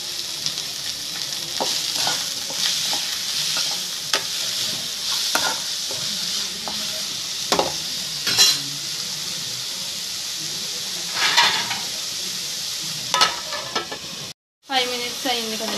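Shredded cabbage with salt and turmeric is stirred in a hot pan, a continuous sizzle broken by spatula scrapes and clinks, close and loud, with a brief silence near the end.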